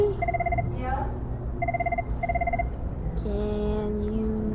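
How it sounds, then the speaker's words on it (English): A telephone rings in repeated double-tone electronic bursts with short gaps, fairly loud against a steady background rumble, followed by a lower sustained tone near the end. "Ringing phone."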